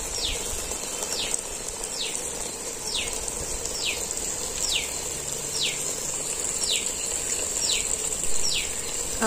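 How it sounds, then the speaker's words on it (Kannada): Outdoors in a village, a bird repeats a piyaw-like call about ten times, each a clear downward-sweeping note, evenly paced over a steady background of running water and insect hum. "ಒಂದು ಪಕ್ಷಿ ಯಾವ ಥರ ಕೂಗ್ತಾ ಇದೆ ಕೇಳಿಸ್ಕೊತಾ ಇದ್ರಲ್ಲ,"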